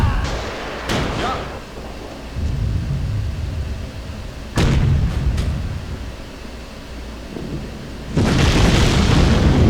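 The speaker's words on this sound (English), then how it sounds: "Let's try the bombard on them." Bombard artillery in the Sudden Strike 3 World War II strategy game fires in several heavy booming thuds spread across the stretch, with a low rumble in between and brief game voices.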